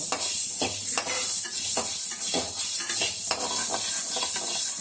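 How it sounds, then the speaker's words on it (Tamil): Peppercorns and long dried chillies dry-roast lightly in a pan for kuzhambu spice powder, giving a steady loud rattle and scrape as a spoon stirs them, with repeated stirring strokes and no voices. "இப்போ நம்ம மிளகை கொஞ்சம் வாசனை லேசாக வரும். ரொம்ப கருக விடக்கூடாது, லேசாக வறுத்துக்கணும்."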